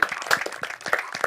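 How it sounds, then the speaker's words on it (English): Applause from an audience, a dense patter of many hands clapping steadily throughout, fairly close and moderately loud. "please give them a big round of applause"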